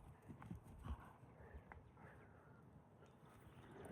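A black horse, about three to four years old and recently trained, clip-clops steadily under a rider, its hoofbeats landing in a quick, even rhythm at moderate distance with faint background noise.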